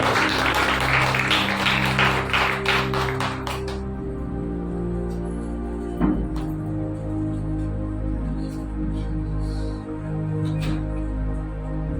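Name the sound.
congregation applauding for the choir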